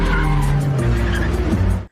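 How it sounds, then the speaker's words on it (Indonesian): Car speeding along a road with tires skidding and squealing, a loud close burst of engine roar and screeching rubber that cuts off abruptly. "entah kenapa Rose menyuruh Mada yang menyetir dan mengebut di jalanan."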